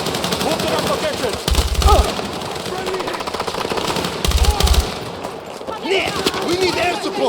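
Battlefield 6 machine-gun fire in a combat mission, with loud sustained automatic bursts and heavy low-end thumps amid chaotic battle noise and shouted voices.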